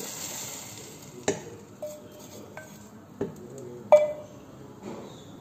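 A spoon stirs a mixture into red lentil soup in a metal pot, with scattered clinks and scrapes against the sides, several sharp taps spread out over a quiet kitchen background.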